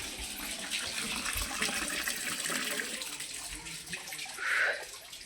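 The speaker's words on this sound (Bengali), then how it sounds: "কলের জলটা পড়ে যাচ্ছে" A tap runs water into a bucket or basin, making a steady, moderately faint rushing splash that continues throughout with a brief brighter gush near the end.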